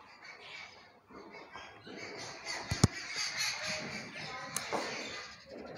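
Birds caw and squawk outdoors near a classroom-like setting, a scattering of moderately loud calls with a couple of sharp louder bursts over steady background chatter and hiss.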